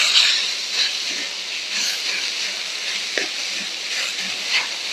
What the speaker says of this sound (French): la viande est en train de cuire. J'ai mon wok